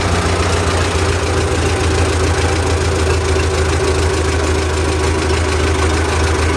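A steady engine idles close by, a continuous low rumble with an even, rapid ticking rhythm running throughout.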